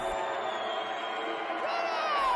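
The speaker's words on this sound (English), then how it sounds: "That's what they're known for up here in Seattle is crowd noise" Roaring stadium crowd at a Seattle football game, a dense, steady wall of cheering that holds loud throughout with no break.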